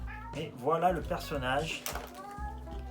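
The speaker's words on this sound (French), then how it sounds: "ça c'est mon chat, hein, vous inquiétez pas, il fait un peu de bruit" A pet cat meows several times up close, drawn-out and wavering, while a person talks over it indoors.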